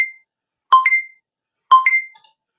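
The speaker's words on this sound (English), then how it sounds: "Oh, it's the timer." A timer sounds off at a desk while someone writes, giving two separated bursts of bright electronic beeping after one short initial tone, clear and alone with no talk.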